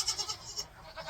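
Goats bleat in a winter goat pen, several short, close calls repeating in quick succession over a steady low barn hum.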